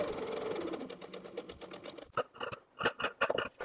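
A sewing machine stitches the upper edges of a bomber jacket's neckband and facing together, a soft running whir that breaks into short start-stop bursts of stitching toward the end, close and quiet.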